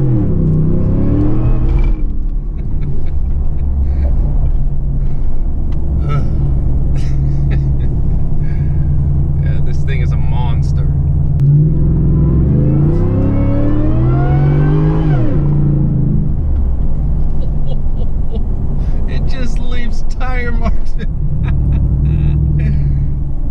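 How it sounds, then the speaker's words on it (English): A supercharged 600whp Ford F150 pickup truck rumbles loudly, then launches with a rising, whining roar as it accelerates. The engine note climbs and falls, with a voice talking over the steady drone. "I didn't want to launch in two-wheel drive with traction control completely off."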